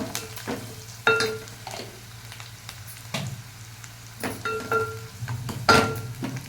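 Turmeric fries in a pan for tomato rasam. A soft, continuous sizzle plays under intermittent stirring scrapes and light metallic clinks of a spoon against the pan, with no talking.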